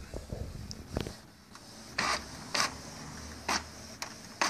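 A Canon MG-series inkjet printer whirs and clicks as it pulls in a sheet, then prints with several short mechanical bursts sweeping back and forth at a steady pace.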